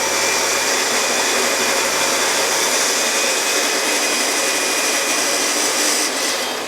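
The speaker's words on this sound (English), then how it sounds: "I can then use the planer thicknesser to bring that down" A planer thicknesser planes wooden coffee table legs with a loud, steady, close roaring whine that holds without a break and eases slightly at the end.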